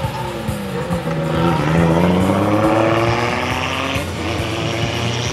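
Drift race cars in a Russian Drift Series round on a wet track in the rain, engines roaring loud and close with rising revs and tire noise, one steady sustained pass of several cars.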